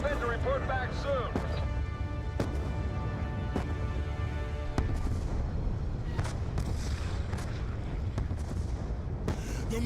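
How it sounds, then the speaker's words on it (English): Mortar and artillery fire in Call of Duty Black Ops 2, with a string of sharp distant thuds and blasts spaced irregularly over a rumbling battlefield bed, some heavier bursts later on, mixed under shouted voices and music. "The mortars have stopped!"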